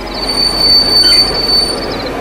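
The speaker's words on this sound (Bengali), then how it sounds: "পর মুহূর্তে প্রচন্ড একটা ঝাঁকানি দিয়ে চলন্ত ট্রেন থেমে গেল।" A moving train brakes hard, its wheels squealing in a steady high-pitched screech over a loud rumble of railway cars, continuous and close for the whole stretch, with no voices.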